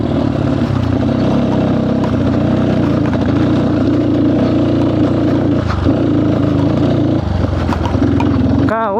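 Motorcycles revving and rumbling loudly as they are ridden out of a narrow, cramped spot on a ride toward the China border, engines droning steadily throughout with voices underneath.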